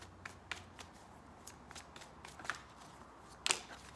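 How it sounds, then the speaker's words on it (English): A tarot card slides from the deck and lands on a table, giving faint papery flicks and shuffling rustles with one sharper snap near the end, quiet and alone. "I'm going to go ahead and pull one more card."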